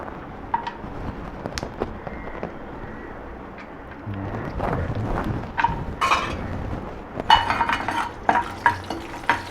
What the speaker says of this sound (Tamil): இந்த அடுப்பில் முந்திரியும் திராட்சையும் வறுத்து எடுத்துக்கலாம்.